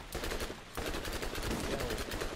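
Rapid automatic gunfire in Borderlands rattles off in a tight, evenly spaced burst of sharp shots, close and continuous without a pause.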